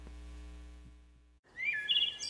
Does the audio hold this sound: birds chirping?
yes